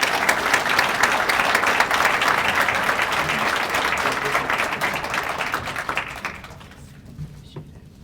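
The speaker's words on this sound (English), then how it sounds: "Let's give them a round of applause." An audience at a police awards ceremony gives a round of applause, loud and dense clapping sustained for about six seconds before thinning out to a few scattered claps.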